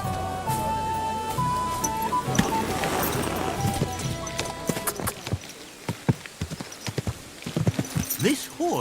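Horse hooves clip-clop in the Kingdom Come: Deliverance II video game, a run of sharp, close hoofbeats over the second half that comes after a steady, noisy stretch with faint music.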